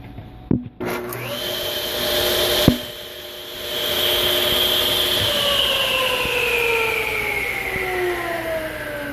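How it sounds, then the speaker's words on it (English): A table saw spins up with a rising whine, then cuts steadily through wood in a loud, sustained drone that slowly winds down over several seconds. "so when I start to saw, see if I try to keep the camera here for you guys."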